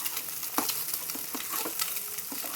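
Rice and egg frying together in a pan, a dense continuous sizzle with quick scraping stirs from a spatula, heard close up and alone with no voices.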